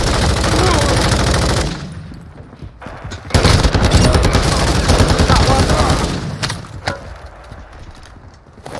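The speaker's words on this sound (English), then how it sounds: "I'm taking effective fire!" Gunfire in the DMZ video game comes in dense, loud bursts of automatic fire. A short lull is followed by another long, sustained stretch of shooting.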